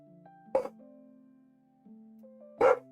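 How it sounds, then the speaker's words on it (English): A dog gives two sharp, loud barks about two seconds apart over a quiet steady hum. "All you hear is the woof woof woof woof woof."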